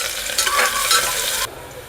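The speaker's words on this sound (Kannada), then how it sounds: "ಇದು ಬ್ರೌನ್ ಆಗೋವರೆಗೂ ಫ್ರೈ ಮಾಡ್ಕೊಳ್ಳೋಣ ಈರುಳ್ಳಿ" Onions frying in a pan while being stirred, a steady broadband sizzle with scraping bursts that drops off abruptly near the end, close and alone with no voices.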